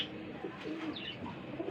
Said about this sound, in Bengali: এটা আমাদের দেশীয় গোল্লা কবুতর।